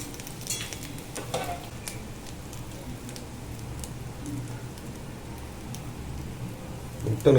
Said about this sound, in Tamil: முட்டை நல்லா வேகிற வரைக்கும் வேக வச்சுக்கோங்க